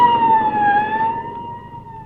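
A police car siren wails as the car passes, a single steady tone that slowly drops in pitch and fades slightly as it moves away, heard alone over a low engine rumble.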